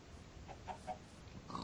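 A few short Minecraft pig grunts and snorts, fairly quiet and slightly processed game audio over a faint background hum.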